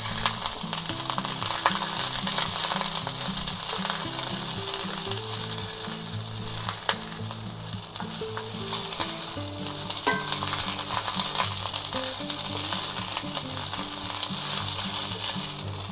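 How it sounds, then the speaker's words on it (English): Bok choy stems stir-fry in an oiled cast iron skillet with a loud, dense, continuous sizzle and crackle, close up and without talk for the whole stretch. "Alright, now we're going to take the bottoms of our Bok Choy and put them in there. Give them a quick stir."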